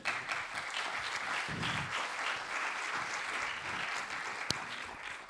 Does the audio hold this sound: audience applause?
yes